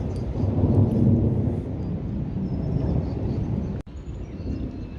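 Thunder from a passing storm over the Nepean River rolls in a deep, sustained rumble that swells early and then slowly eases off, with a brief dropout near the end.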